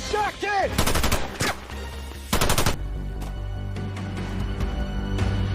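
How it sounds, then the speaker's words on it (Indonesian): Gunfire in a film scene, with rapid bursts of close, loud shots crackling in quick succession, interspersed with brief pauses, followed by a lower sustained rumble as the shooting dies down. "Untuk menghambat pergerakan musuh, dia melakukan beberapa tembakan."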